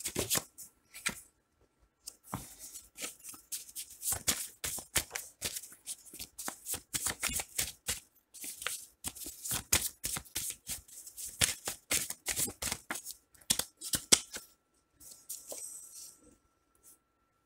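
Tarot cards are shuffled and handled at close range, with rapid riffling bursts of crisp papery flicks repeating in uneven clusters, separated by brief silences and occasional single card slaps, no talk.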